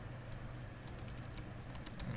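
Soft, rapid clicking of keys on a computer keyboard as an email address is typed into a GitHub login form, quiet and fairly close, with no talking.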